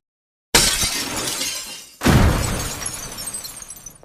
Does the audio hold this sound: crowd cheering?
no